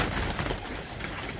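Pigeons cooing softly at a distance, a faint, low murmur over steady background noise.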